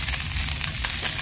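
Okra pan-fried in a large frying pan gives off a steady, close, loud sizzle that hisses continuously throughout.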